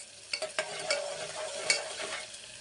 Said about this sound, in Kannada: ಇದೆಲ್ಲ ಚೆನ್ನಾಗಿ ಫ್ರೈ ಆಗಬೇಕು